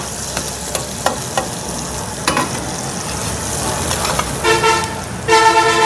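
Garlic goes into a hot pan for a dhaba-style Kashmiri rajma, bringing a loud, continuous sizzle and frying crackle with a few sharp clinks, then bright tonal beeps or a horn-like toot near the end.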